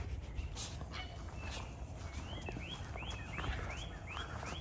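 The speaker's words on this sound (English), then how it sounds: "that bird I saw yesterday is possibly what's making all that noise" Repeated short rising chirps from a bird at a lakeside campground at Crooked Lake near Pinckney, Michigan, a quick series of faint calls over low outdoor rumble.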